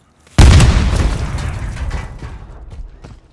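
A frag grenade detonates in Call of Duty Modern Warfare 3 multiplayer, a single loud, close, booming blast that hits suddenly and rumbles away over about three seconds, with faint debris rattles in the tail.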